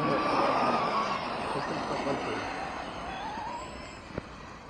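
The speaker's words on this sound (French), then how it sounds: "Ah, il y a une voiture là. Deux voitures." A car, likely a radio-controlled model on a dirt track, whirs past in a steady buzzing drone that fades gradually, with a short sharp knock near the end and voices talking over it.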